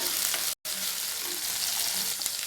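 Onion, garlic, curry leaves and tomato sizzle and crackle in a hot pan, a continuous close frying hiss with faint stirring scrapes and a brief dropout partway through.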